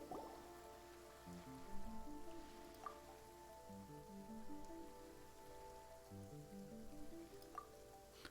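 Rain falling in the video game Genshin Impact, a soft, steady patter on surfaces under quiet background music, faint and continuous with a few brighter drop sounds.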